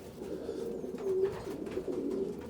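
Steady low cooing from a racing pigeon, a consistent 42 cock, repeated soft throaty coos close by with a constant faint background hum and no talking.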